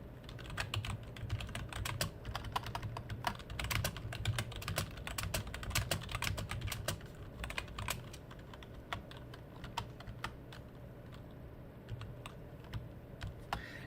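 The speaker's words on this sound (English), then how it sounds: "Sorry about the typing, guys." Rapid typing on a computer keyboard, a steady stream of sharp, close key clicks and clacks with brief pauses between bursts, fairly quiet and heard alone without talking.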